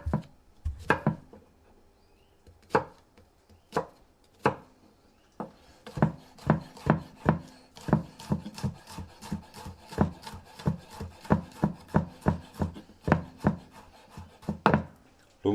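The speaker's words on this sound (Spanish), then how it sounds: "ara picarem un all" Garlic clove being chopped finely with a knife on a board, a few scattered knocks that build into a fast, steady run of close, sharp chops.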